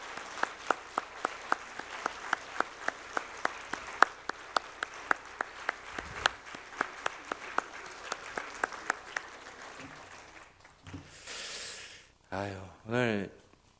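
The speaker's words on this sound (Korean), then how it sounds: "격려의 박수 해주시기 바랍니다" Audience at a church women's mission society dedication service applauds in encouragement, with steady rhythmic clapping through most of the clip before it fades, followed by brief noise and a short voice.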